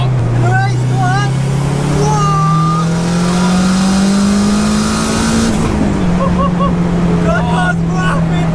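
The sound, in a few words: cars racing, Honda Civic against a supercar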